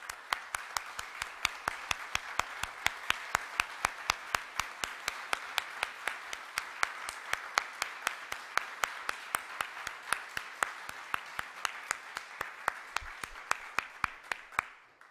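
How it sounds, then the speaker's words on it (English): Lecture audience applauding donors as they stand, a steady dense round of clapping with many hands, sustained evenly for about fifteen seconds before tapering off at the end. "I would like to give y'all a round of applause."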